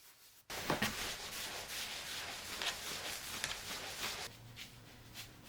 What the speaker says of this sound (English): Here I'm polishing the tiles after the grout set up.